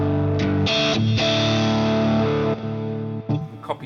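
Marshall JCM800 amplifier pushed to high gain, a distorted electric guitar ringing out in sustained chords with a bright, sizzling top end, then a few shorter picked notes, loud and close with no talking.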